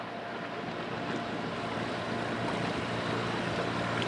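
A boat rocks on choppy water out in the middle of Eutsuk Lake in British Columbia, with a steady loud wash of waves and wind noise rumbling across the microphone and no voices.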